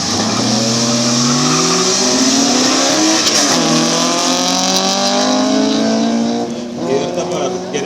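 A Porsche and a BMW drag race at Kazlu Ruda airfield, their engines roaring loudly and continuously as revs climb and shift through gears, with a commentator talking over them.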